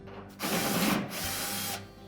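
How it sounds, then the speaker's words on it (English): A power drill whirs briefly as screws come out of the top panel of a Whirlpool dryer, a close two-part burst of motor noise with a short pause between. "start by removing these two screws that secure that top panel"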